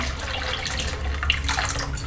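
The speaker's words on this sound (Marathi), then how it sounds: "तर आपण पाणी ॲड करतोय" Water splashes and gurgles steadily into a pan of thick pav bhaji, a continuous close pouring sound with a faint low hum beneath.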